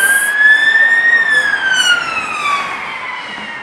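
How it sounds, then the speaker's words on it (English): A single wailing siren rises and then slowly falls in pitch, loud and close on a street in Chiswick, London, fading slightly toward the end. "a siren. Is somebody police?"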